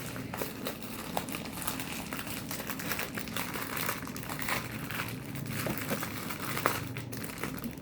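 Plastic packaging crinkles and crumples steadily up close while a mail-order package of labels is unwrapped, with a few sharper tearing crackles and no talking.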